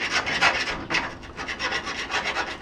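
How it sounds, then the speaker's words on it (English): A hand file rasps back and forth in quick rhythmic strokes, smoothing corrosion inside the leaf spring bushing hole of an EZGO golf cart, close and steady with no talk. "I'm going to file it for a few more seconds here."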